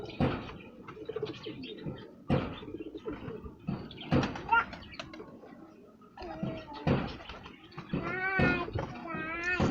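Pigeons coo and flutter while being shooed into flight, their calls and wingbeats coming in bursts, with people talking and calling out over them throughout.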